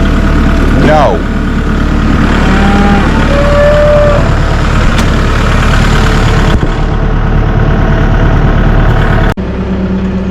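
A farm tractor idles steadily with a low, continuous engine rumble throughout, hitched to a trailer, while brief voices and faint background noises sit over the drone.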